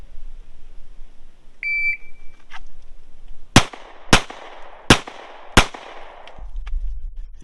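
A shot timer gives a short electronic beep, followed by four loud close gunshots from a range drill at slightly uneven intervals of under a second, with echoing decay and quiet between them.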